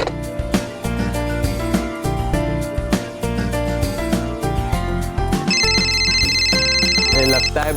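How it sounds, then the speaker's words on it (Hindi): A telephone rings with an incoming call, a repeating electronic ringtone rising over loud dramatic background music in a TV fantasy drama scene. "लगता है बालवीर को पता चल गया है, इसलिए उसने सामने से फोन किया है।"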